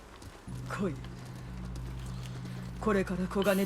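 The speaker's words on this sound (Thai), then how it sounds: "ขี่ม้านะ ไปเลยครับ" Horse hoofbeats in the samurai video game Ghost of Tsushima, a steady galloping rhythm over a constant low drone of music, with someone talking over the start and again near the end.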